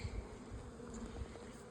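A dense, steady buzzing hum of honey bees rises from opened apiary hives, close and continuous but fairly quiet, with no voices.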